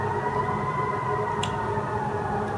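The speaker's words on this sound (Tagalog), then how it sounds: "Siren siya." A fire truck siren wails steadily near a highway, a continuous tone held at an even level for the whole stretch with no voices over it.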